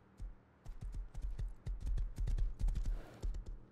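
Horse hooves in the video game Rust clop steadily up close, a quick, even run of dull thumps that builds in loudness partway through.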